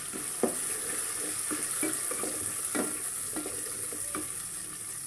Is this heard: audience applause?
no